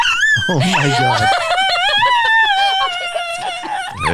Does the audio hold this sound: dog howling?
yes